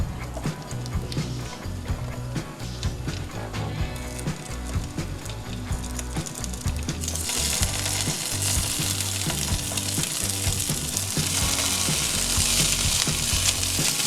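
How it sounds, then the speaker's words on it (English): Vegan sausages searing in a hot pan give a continuous close sizzle that grows louder and brighter partway through, with occasional soft knocks and no talking. "for the sausages, we just want to sear them"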